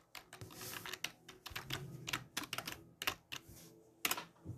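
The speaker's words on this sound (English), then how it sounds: "Okay, let's type." Rapid clacking keystrokes on a computer keyboard, close and fairly loud, in uneven bursts with short pauses and a firmer tap near the end.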